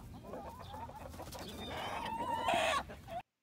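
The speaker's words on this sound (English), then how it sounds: "chickens are hungry." Hungry farm chickens cluck and squawk steadily and close by, a dense flock chorus that grows busier and louder toward the end, with a brief higher-pitched call near the close.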